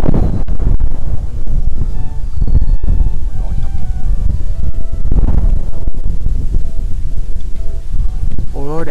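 Sea wind blows strongly across a shrimp pond in Ca Mau, a constant rough roar buffeting the microphone, with faint rustling and low rumbles and no clear voices.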